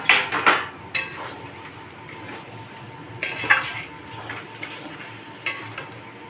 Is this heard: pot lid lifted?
yes